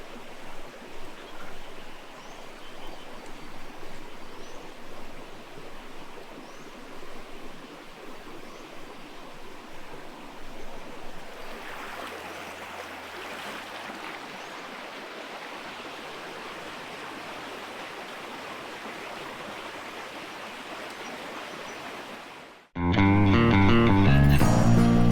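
The Crooked River in Victoria's High Country flowing, a steady broadband rush of running water sustained for over twenty seconds, shifting slightly midway, before a sudden louder burst of other sound cuts in at the end.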